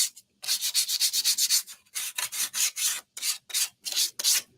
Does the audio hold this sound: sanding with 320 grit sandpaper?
yes